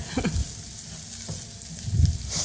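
Vegetables sauté in a hot pan with a soft, steady sizzle and scattered scrapes and stirs of a spatula, heard up close with no one speaking.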